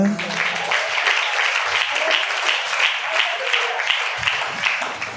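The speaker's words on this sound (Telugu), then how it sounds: "చప్పట్లు కొట్టరా?" An audience at a Christian testimony gathering claps steadily, a dense sustained wash of applause that holds at an even level throughout, with voices mixed in.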